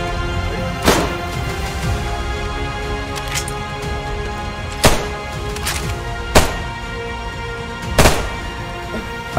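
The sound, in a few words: Mosin rifle gunshots in video game DayZ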